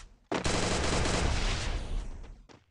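A sustained burst of rapid automatic MP40 fire in Garena Free Fire, loud and close, running for over two seconds before cutting off, with one more shot starting right at the end.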